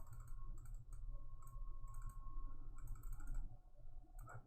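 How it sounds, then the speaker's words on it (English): Computer mouse clicks while drawing shapes in software, a series of faint, sharp clicks in small irregular clusters over a low background hum, quiet and close. "I'm clicking more just to add some more values there"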